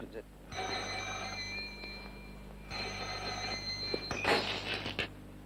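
A telephone bell rings in two long trilling bursts in a home kitchen, loud and close, followed by a clatter as something breaks, with a faint voice around it.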